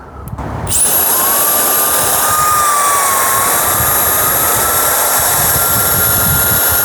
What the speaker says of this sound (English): let's do a little wind tester, see how fast this thing blows. Go level 1.